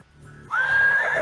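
Prairie horse mount neighing in the VR game Neon Sprint on Quest 2: after a half-second of low hum, a loud, sustained whinny rises and wavers until the end.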